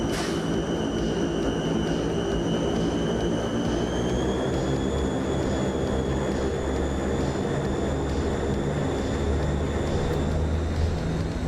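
Fokker F27 turboprop engines at takeoff power in Microsoft Flight Simulator 2024, a steady loud droning roar with a high whine held throughout, without a break.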